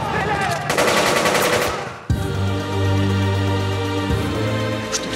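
Gunfire in a film trailer: a loud sustained automatic burst rattles over dramatic sound for about two seconds, cut abruptly and followed by a steady low tonal drone.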